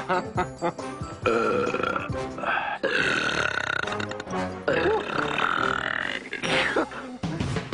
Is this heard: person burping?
yes